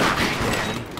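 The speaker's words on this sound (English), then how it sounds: "Alex, I'm being shot by Jeff!" Dense, continuous video-game gunfire fills a Halloween-themed multiplayer match, a loud unbroken fusillade with muffled booms running the full second.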